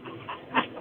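A puppy whimpering sound effect, a short, thin whine with soft panting breaths, heard close and alone over a muffled, narrow-band background.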